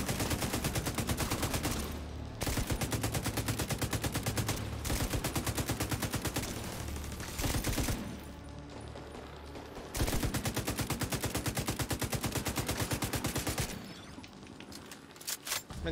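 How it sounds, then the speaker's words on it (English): Sustained rapid machine gun fire in the video game The Division 2, loud dense bursts of rounds with brief pauses near two, eight and fourteen seconds. "this MG I'm using It hasn't actually got a lot of damage, but it certainly does a lot"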